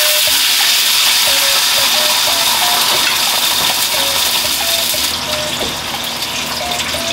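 Water is poured into a hot pan holding a whole chicken thigh for oyakodon, and a loud, dense sizzle roars steadily, easing slightly toward the end.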